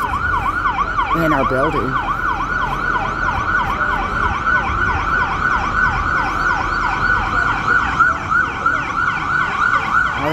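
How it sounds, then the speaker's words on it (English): Fire truck sirens wailing loud and steady as the trucks arrive at an apartment building fire, the rising and falling tone continuous throughout, with a voice speaking briefly over it. "And a couple fire trucks, maybe three fire trucks."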